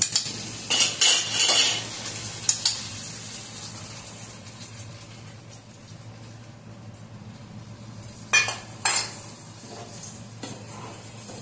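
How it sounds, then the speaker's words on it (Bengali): A bowl that held spices for a paneer curry is rinsed and its water poured into the cooking pan: sharp metallic clinks early and again near the end, over a low steady simmering hiss. "মশলা যাতে ছিল সেই বাটিটাই ধুয়ে আমি জল দিয়ে দিচ্ছি।"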